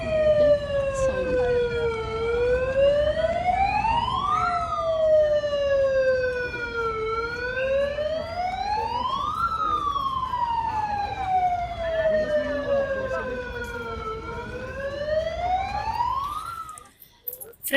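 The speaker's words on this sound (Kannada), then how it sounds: "ಆಂಬುಲೆನ್ಸ್ ಪೊಲೀಸ್ ಜೀಪ ಬಂದಿದೆ." An ambulance and police jeep responding to an accident, sirens wailing in long rising and falling sweeps, loud and close, repeating steadily before cutting off near the end.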